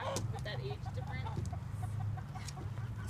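A mature backyard hen clucks in short, soft bursts close by, with other fowl sounds and a low steady hum underneath.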